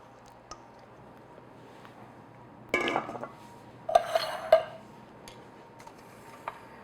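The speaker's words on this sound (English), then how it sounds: "I'm just using an offset spatula, just spread it out" An offset spatula spreads pumpkin bar batter in a baking pan: a few short, close scraping and tapping strokes in clustered bursts, with quiet pauses between them.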